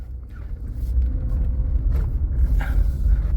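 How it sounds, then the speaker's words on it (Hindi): Mitsubishi Pajero 2017 engine running as the SUV pulls away in drive, a steady low rumble with faint road noise and no talk. "तो ये मैंने इसको स्टार्ट कर लिया, अभी ड्राइव मोड में डालते हैं और चलते हैं भाई लोग"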